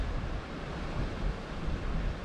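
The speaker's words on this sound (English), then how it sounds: "But that wind's just getting horrible now." Strong seaside wind buffets the microphone in a steady, loud low rumble mixed with broadband surf-like noise, continuous with no voices.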